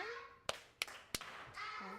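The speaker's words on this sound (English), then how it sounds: "I learned their special clap. If a kid does something right, everyone gives them a clap like that." Nursery school children in Kumi give their class's special group clap: three sharp, loud claps in a quick rhythm with brief gaps, then a murmur of voices.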